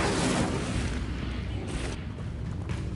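A fiery spell cast in Hogwarts Legacy, a dense loud whooshing roar like a burst of flame with rumbling low crackle, sustained for about three seconds without speech.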